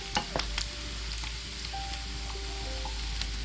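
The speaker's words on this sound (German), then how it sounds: "Nun etwas Öl in die Pfanne und die Speckwürfel ganz kross anbraten." Diced bacon sizzles crisp in hot oil in a frying pan, a steady close crackle and hiss with a few sharp pops and faint utensil clinks, no talking.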